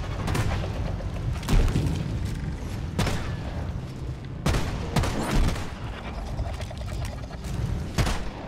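Gunfire in Deep Rock Galactic: repeated sharp shots and bursts with booming impacts spaced every second or so over continuous in-game background noise.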